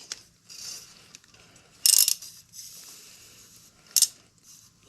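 Two short, sharp metallic bursts, about two seconds apart, as a part is tightened on a Harley Davidson motorcycle bought from Copart, set against a quiet workshop background with no talking.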